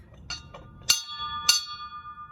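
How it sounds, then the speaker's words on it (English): A tall ship's bell rings out twice for the changing of the watch, clear metallic clangs that hang and ring on, preceded by a couple of softer taps, over a low background rumble. "Methinks I hear the ship's bell being struck for the changing of the watch"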